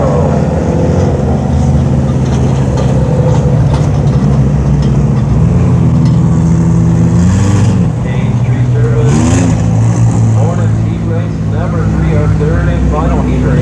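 Hornet class race cars in a heat race at Brownstown Speedway, a loud roar of several engines revving and passing, with a commentator talking over the noise.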